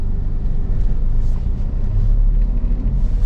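A manual car rolls slowly in first gear, heard from inside as a steady low engine and road rumble, loud and continuous with no speech.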